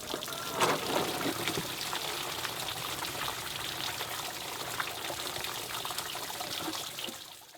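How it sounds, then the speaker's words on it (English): Coolant pours and trickles steadily from a Land Rover Discovery 1 radiator into a container, a continuous splashing patter with no voices. "draining the oil from the engine and emptying the coolant from the radiator"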